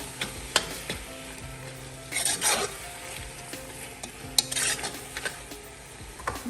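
Powdered shrimp is stirred into a sizzling pot of fluted pumpkin dish, a spoon scraping and clinking against the pan over a steady frying hiss.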